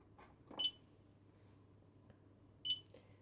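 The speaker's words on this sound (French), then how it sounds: "bip, bip, bip, on fait un signal sonore" An emergency lighting control unit, a Finsécur Celtic BAAS Pr8, sounds electronic alarm beeps after a battery is disconnected: two short, high, clear tones about two seconds apart, close and moderately loud over faint background hum.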